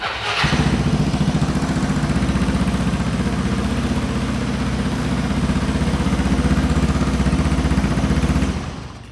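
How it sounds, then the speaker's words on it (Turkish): A Yamaha BWS 125 long-chassis scooter engine fires up and settles into a steady, close idle, a continuous throbbing putter that holds for several seconds before cutting off, with no talk over it. "Şöyle gelirsen bir marş yapmak istiyorum."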